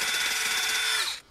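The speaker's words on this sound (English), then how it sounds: "We will get a wire brush on a drill driver and get that cleaned out." A drill driver with a wire brush cleans out a suspension bush housing on a Skoda Fabia or VW Polo MK4, giving a loud, steady whirring buzz that runs continuously and then stops abruptly.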